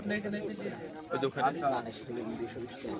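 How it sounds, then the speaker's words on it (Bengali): Pigeons coo in short repeated phrases at a rain-soaked open-air pigeon market in Katakhali, Rajshahi, Bangladesh, close and moderately loud, mixed with people talking nearby. "বৃষ্টির মধ্যে কবুতরের বাজারটা মোটামুটি চলছে"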